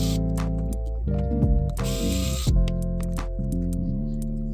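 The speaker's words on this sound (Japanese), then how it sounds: "電動ドライバーで外していきます。" An electric screwdriver backs screws out of a circuit board inside a small light-sensing device, its motor whirring in short, repeated bursts with brief pauses between them, close and clear.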